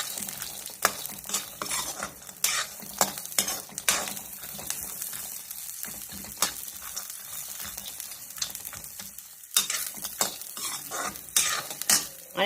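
Peanuts dry-roasting in a pan for coconut chutney, stirred with a utensil in a steady run of scraping strokes and light rattling clinks over a soft dry sizzle, close and moderately loud, with no talking.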